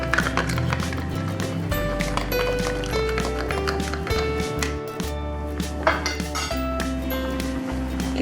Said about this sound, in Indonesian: Kita aduk-aduk biar semuanya tercampur rata.